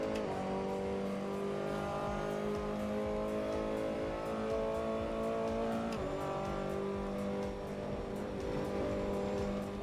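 A race car engine revs and drones steadily in Assetto Corsa, running on a modded engine sound, its pitch climbing and falling through gear changes with brief tire squeal, loud and continuous with no talk over it.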